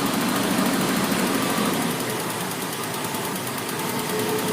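Jaguar XJ40 engine idling steadily after a throttle position sensor adjustment, a continuous, even, close-up hum with low rumble and broadband hiss, no talk.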